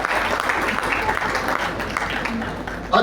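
Audience applause at a Hindi kavi sammelan poetry gathering, a dense steady wash of clapping from a crowd filling the whole stretch, fairly loud and continuous with a brief swell at the end.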